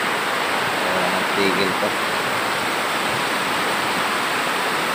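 Heavy rain pours in a dense, roaring wash of broadband noise that stays constant throughout, with a voice briefly speaking over it.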